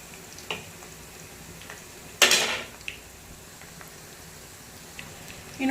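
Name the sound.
bitter gourd pakoras frying and being flipped in oil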